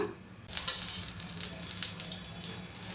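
Tempering spices hit hot oil for an okra chutney and burst into a loud, steady sizzle that starts abruptly and then crackles on evenly close by.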